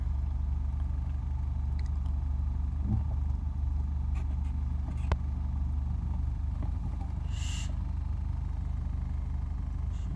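A car engine with an unstable, rough idle runs as a steady, low mechanical rumble with faint uneven flutter, close and continuous, with no talking.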